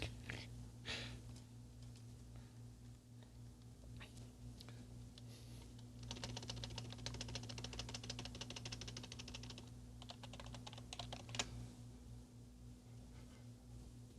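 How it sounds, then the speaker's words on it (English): Rapid clatter of typing on a computer keyboard while entering Linux commands during a VGA capture setup, with dense bursts of keystrokes over a steady electrical hum and a quiet room background. "I'm typing a bunch of stuff in to make Linux happen."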